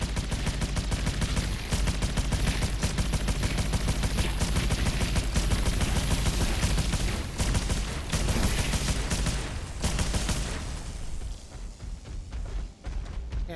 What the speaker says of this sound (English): Cannons are overheating again.